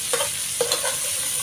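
Bitter gourd (ampalaya) sizzles steadily in a hot pan while a utensil stirs and scrapes it in a few distinct strokes, close and continuous with no talking.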